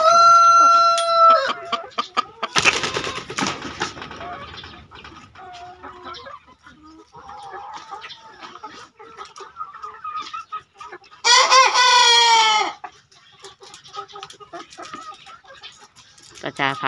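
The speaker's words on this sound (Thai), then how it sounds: "พามาให้เบิ่งไก่สามสายว่าคุณภาพมันงามแค่ไหน" Three-blood crossbreed chickens cluck and a rooster crows loudly, with bursts of crowing near the start and again partway through, over a busy farmyard background.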